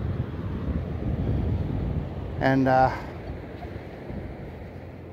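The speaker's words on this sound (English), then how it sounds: "sorry about the wind" Wind gusting across a quiet beach with wet sand, a steady broadband rumble buffeting the microphone throughout, with a brief voice breaking in midway.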